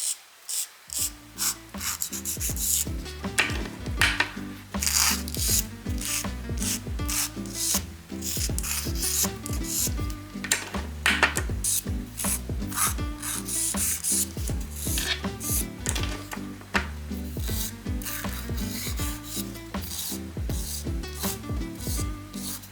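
Steady, rapid rasping strokes of a file scraping back and forth along press-on nail edges, close and continuous, with no talking.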